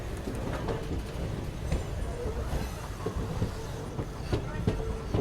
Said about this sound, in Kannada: ಇಲ್ಲಿ ಯಾವುದೋ ಟ್ರೈನ್ ನಿಂತ ನೋಡ್ರಿ.